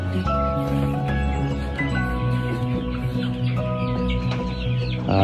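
Several young chicks in a brooder cluck and chatter close by in a busy, continuous flock, with occasional sharper squawks.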